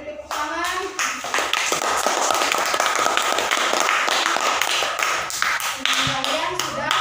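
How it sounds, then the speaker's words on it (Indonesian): Children in a classroom clap together for several seconds after group presentations, the hand claps dense and close, with some faint kids' voices mixed in underneath. "Ya, beri tepuk tangan."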